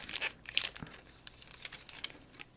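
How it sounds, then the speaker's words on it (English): Cards being gathered and put away, giving a run of close, quiet crinkling and shuffling rustles with a few sharper crinkly bursts and no voices. "Let me just put my cards away."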